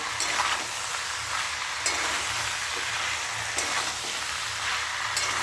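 Spices and food sauté in a hot pan for a Bengali home-cooked dish, giving a steady, soft sizzle with occasional stirring clicks at a regular pace.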